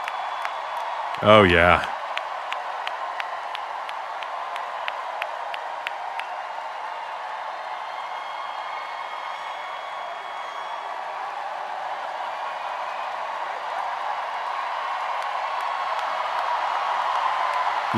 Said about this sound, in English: There's the audio from the crowd that we needed.